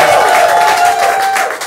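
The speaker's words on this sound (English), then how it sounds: "Please, a round of applause for Basket Man." A comedy show audience applauds and cheers loudly for a comedian taking the stage, a dense wash of clapping and shouts that tapers slightly at the end.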